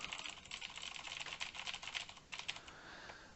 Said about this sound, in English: And then from here, we type our product key in.